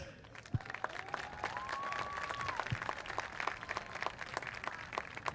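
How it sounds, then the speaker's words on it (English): Moderate audience applause at a school pep rally in a gym, steady clapping with scattered sharper claps and a faint whistle-like tone over it. "a nice round of applause for our interim superintendent"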